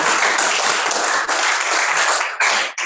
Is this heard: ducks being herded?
no